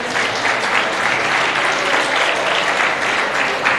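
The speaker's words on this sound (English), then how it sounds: "Colleagues, may we clap hands for these teachers?" An audience claps steadily and loudly for teachers at a district education awards function, a dense and continuous round of applause with no one speaking over it.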